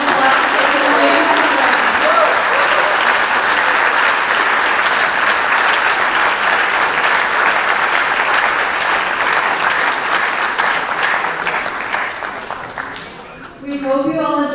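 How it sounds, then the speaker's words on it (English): Loud, sustained applause from a large audience after a dance drama performance, steady clapping that fills the space and fades near the end as a voice begins to speak. "Let's give them another big round of applause for such an amazing"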